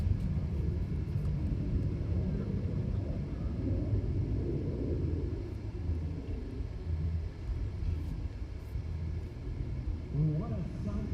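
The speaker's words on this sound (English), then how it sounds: "Wow, listen to the sound of those engines." Deep rumbling roar of an F-100 Super Sabre's jet engine at an airshow, a continuous low-heavy drone that swells and eases slightly as the aircraft passes at a distance.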